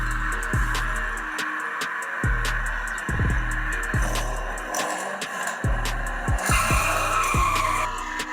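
Hot Wheels die-cast toy cars race down a track in a series of sharp clacks and rattles as they roll over joints, with a brighter whirring rush near the end. No one speaks.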